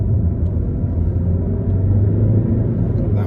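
A 2012 Alfa Romeo Giulietta turbo engine pulls through the gears from inside the cabin, a loud steady low rumble and road drone with no break between shifts.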